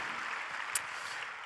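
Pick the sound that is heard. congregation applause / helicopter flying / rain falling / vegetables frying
congregation applause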